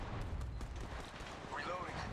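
A grenade blast in Apex Legends Mobile rumbles as a deep, heavy boom that lingers through the moment, with battle noise and voices mixed over it.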